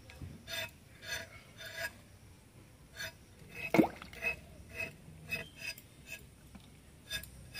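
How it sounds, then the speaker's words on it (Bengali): Pointed gourds (potol) peeled with a knife, a series of short close scraping rasps in an uneven rhythm with one sharper knock midway, fairly quiet. "পটলগুলো একটু ছুলে নিচ্ছি"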